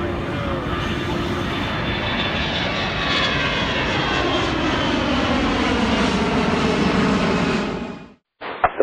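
A Delta jet airliner roars steadily through its takeoff roll on runway 27 right at Atlanta airport, loud and sustained with a broad engine rumble and a whining tone, then cuts off abruptly near the end.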